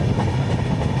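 Inside the NJP to APDJ Tourist Express train moving slowly through a forest stretch, a steady low rumble of the carriage with faint rhythmic wheel clatter, close and continuous, no talking.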